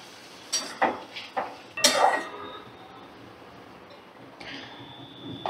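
A lid goes onto a pot of okra and potatoes on low flame after a few close metallic clinks and knocks of utensils, followed by a quiet stretch with a faint simmer.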